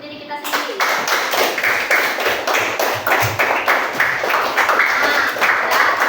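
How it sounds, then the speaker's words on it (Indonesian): A school class claps for themselves, brisk loud rhythmic hand clapping close by that starts after a short pause and continues steadily throughout, with a voice briefly present at the start. "Dan kita beri tepuk tangan untuk diri kita sendiri."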